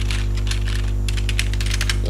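Clicks of a computer keyboard, several quick keystrokes then a brief gap and a burst of faster presses, close over a loud steady electrical hum.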